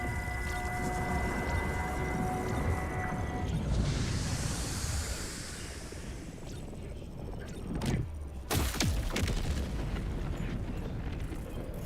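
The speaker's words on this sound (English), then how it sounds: "they will more than likely assassinate you, because you set off their hell bomb" A hellbomb explodes in the video game Helldivers 2, heard as a deep, rumbling roar that swells and then falls away, with sharp crackling blasts late on over a steady background.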